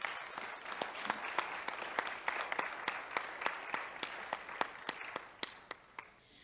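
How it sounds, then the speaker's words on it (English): Audience applause for agripreneur pitch finalists at a summit, starting as a light patter and thinning into scattered, individually distinct claps that fade toward the end. "Please, can we give another round of applause?"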